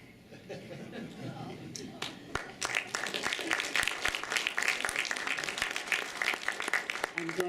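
An audience at a poetry festival presentation breaks into applause, the clapping swelling after a quiet start and continuing thickly, with a voice briefly heard beforehand.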